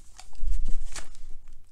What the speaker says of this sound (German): Eine Klappertüte.